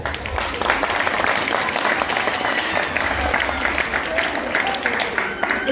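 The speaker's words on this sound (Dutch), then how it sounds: "En ik zou toch graag een heel erg groot applaus willen vragen voor al die krachten en al die vrijwilligers." A crowd at a benefit event for the Morocco earthquake applauds volunteers, loud continuous clapping throughout with some crowd murmur and a few voices mixed in beneath it.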